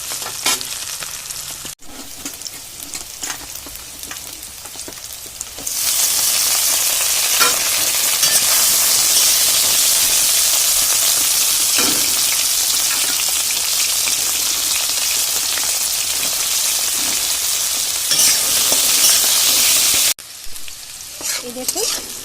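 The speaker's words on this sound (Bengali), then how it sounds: "এবার আমি যে আলুগুলো কেটে রেখেছিলাম সেই আলুগুলো এই পেঁয়াজ তেলে ভেজে নেব।" Cut potatoes hit hot onion oil and a loud, dense hiss fills the space, a steady rain-like sizzle that holds for a long stretch before dropping back to quieter crackling.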